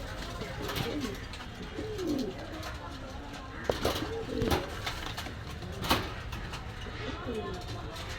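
Pigeons, local and Pakistani breeds, coo repeatedly in soft rolling calls inside a pigeon shop, with faint background voices and occasional knocks.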